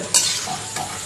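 Palm fruit fritters sizzle in hot oil, a close, steady frying hiss with a sharp crackle burst near the start and no talking.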